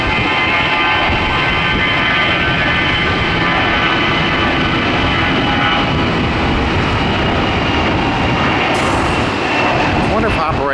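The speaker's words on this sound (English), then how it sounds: "Hey, an Airbus finally to New York's LaGuardia." An Airbus jet airliner bound for New York LaGuardia roars steadily at an airport, a loud continuous jet rumble and whine filling the whole stretch, with no clear talking over it.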